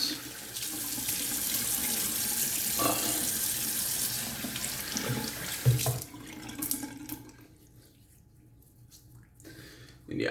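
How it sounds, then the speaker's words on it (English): A bathroom tap runs steadily for a cold-water rinse after shaving, close by with light splashing, then shuts off around the middle, leaving a quiet room with faint handling sounds. "Do a cold water rinse."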